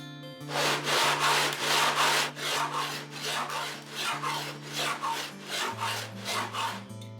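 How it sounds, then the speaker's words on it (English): A wooden guitar back is sanded in a radius dish with steady back-and-forth rasping strokes, about a dozen even passes close up, alone with no talk. "I've been sanding for a little while"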